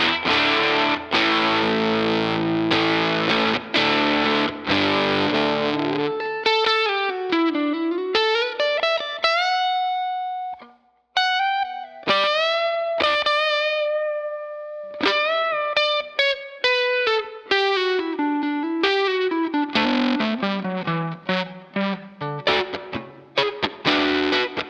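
Electric guitar played through a Hamilton Effects pedal board with the delay switched off: heavily distorted chords open the passage, followed by bent and sliding single-note lines with sustained tones, a brief silent gap, then more overdriven chords.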